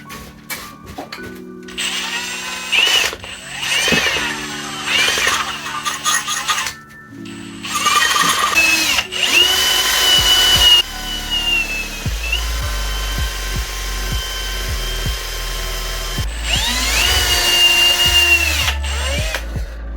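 Bursts of a power drill whine through a steel plate to make a hole sized for a dowel in a wooden fishing rod build. Several starts and stops are followed by louder grinding and scraping, close and without talk.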